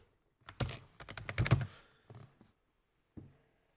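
Code is typed on a computer keyboard: a quick flurry of close, crisp key clicks, a short pause, a few more taps, then one last keystroke in a quiet room.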